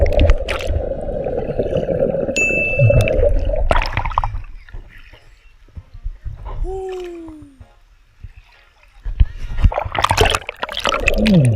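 Water splashes and sloshes loudly up close at a cold spring, with bursts of turbulent splashing separated by quieter gaps and a brief vocal sound midway.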